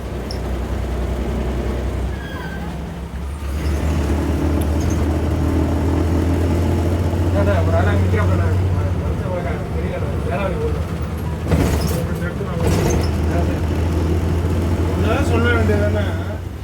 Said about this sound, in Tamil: செம்ம டிராஃபிக்ங்க